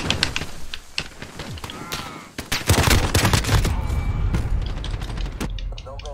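Rapid pistol gunshots in Call of Duty Modern Warfare ring out as sharp cracks and quick bursts, with a dense, loud stretch of firing and thuds in the second half amid busy game noise and faint voices.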